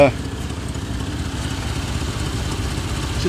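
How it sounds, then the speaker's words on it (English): 1988 Chevrolet Suburban 2500 V8 running after six years in storage, a steady close engine rumble with a slight rise at the start, no voices. "Let's give it one more rev"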